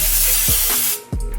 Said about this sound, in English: I'm gonna spray it down with a little bit of pan olive oil spray